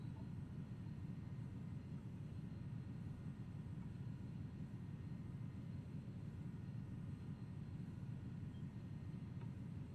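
Airliner engines roar through a steady takeoff roll in the X-Plane 11 flight simulator, a dense, continuous low rumble that holds at an even level for the whole stretch with no voices over it.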